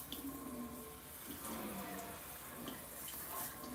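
Hot water runs steadily from a kitchen tap into a sink, a continuous soft hiss and splash at low volume.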